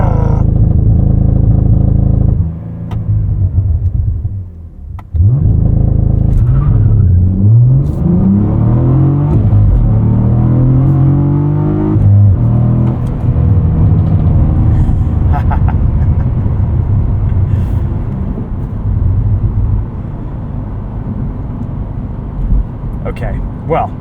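A 2024 Cadillac CT4-V Blackwing with a 6-speed manual accelerates on a race track, its engine loud and close, the revs climbing and falling through several gear changes in one continuous pull.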